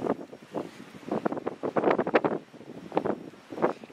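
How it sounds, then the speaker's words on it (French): Gusty wind buffets the microphone outdoors during a metal-detecting outing, with irregular loud rumbling bursts and brief lulls, no voices. "il y a beaucoup de vent là"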